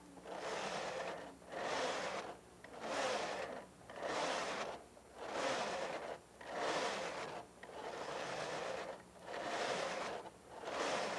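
A Brother KH-930 knitting machine knits a pattern, its carriage sweeping back and forth in about nine even, rhythmic passes, each a loud, close, raspy sliding whoosh separated by brief pauses.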